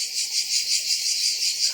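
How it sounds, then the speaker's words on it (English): Crickets chirp steadily at night in Tbilisi, Georgia, a continuous shrill pulsing chorus that swells and fades in a regular rhythm, with no one speaking. "the crickets aren't going to stop"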